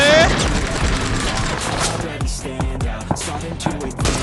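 Rapid automatic gunfire in the battle royale game PUBG, with dense bursts of close shots and sharp repeated cracks, loud and chaotic, with excited voices calling out between the volleys.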